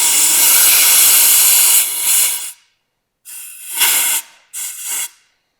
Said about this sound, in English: let's just use a little compressed air